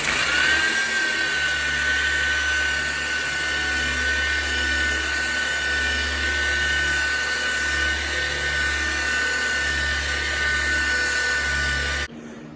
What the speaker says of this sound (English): This is a DA sander with 80 grit.